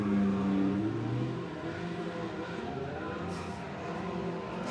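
Mazda Miata drift car at a live drifting event in Mexico, a steady mid-pitched engine drone with a brief rising rev at the start, fairly distant and without talk.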